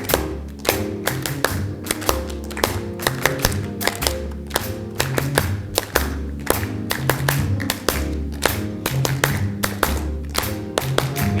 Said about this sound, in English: We're going to clap what the drummer's doing.